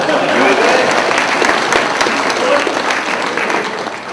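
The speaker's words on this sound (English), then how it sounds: "Nice round of applause" An audience at a comedy magic show gives a warm round of applause, dense clapping that stays full for several seconds and then starts to taper off.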